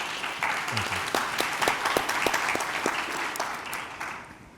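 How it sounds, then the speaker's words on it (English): An audience gives a round of applause for a panel, steady full clapping with a few sharper individual claps standing out, fairly close and sustained throughout. "And so just give our whole panel a round of applause."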